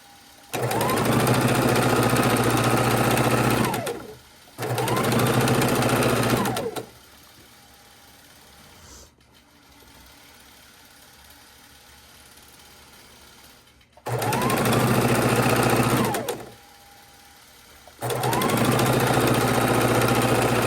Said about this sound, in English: the stitching that you're hearing, my friends, is the long arm